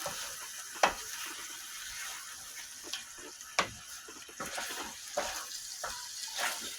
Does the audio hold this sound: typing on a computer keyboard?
no